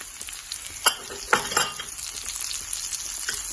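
Onions frying in a hot pan for SPAM fried rice, a close, even sizzle with a few sharp clinks of a utensil against the pan early on.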